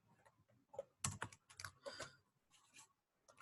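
Quiet, close typing on a computer keyboard during a JavaScript coding lecture, uneven clusters of light key clicks with brief gaps, no talking.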